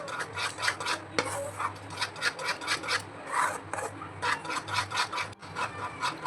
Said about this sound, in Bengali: দুধটা দিয়ে গুঁড়ো দুধটা আমি ভালো করে মিক্স করে নিচ্ছি।